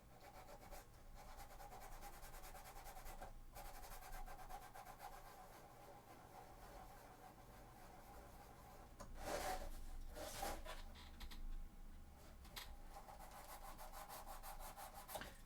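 Steady, faint rubbing strokes of sanding on a foam clay cosplay chainsword repeat throughout, growing a little louder and harsher near the middle, with no talking.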